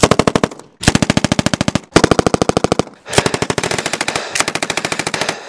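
Machine gun fire in the Tiny Troopers Joint Ops video game, five loud, rapid bursts of rattling shots separated by short pauses.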